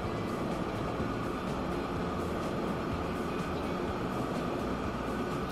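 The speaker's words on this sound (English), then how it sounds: "Look at that train." A train rolls past in the video game Transport Fever 2 with a steady, dense rumble and rattle that holds at an even loudness throughout.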